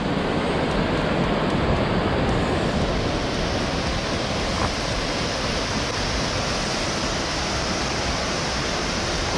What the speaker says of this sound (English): There's the raging Catuga River.